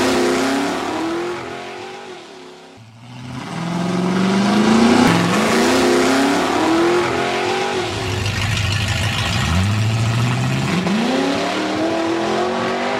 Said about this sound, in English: This is your car on nitrous.